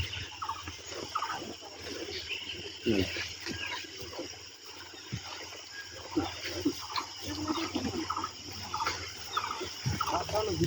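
A bird calls from high in a tree in the Dooars jungle during an elephant safari, its repeated gobbling, turkey-like notes ringing out under nearby chatter and a steady background murmur.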